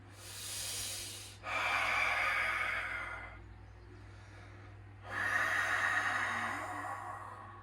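Slow, deep breaths during a Hatha yoga pose with knees drawn to the chest, two long airy exhales close to the mic separated by a quieter pause, over a steady low hum.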